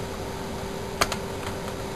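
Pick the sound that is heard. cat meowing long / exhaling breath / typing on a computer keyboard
typing on a computer keyboard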